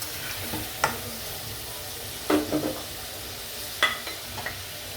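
Spices sauté and get stirred in a pan for a potato, bottle gourd and koi fish curry, a faint steady sizzle broken by a few soft spatula scrapes.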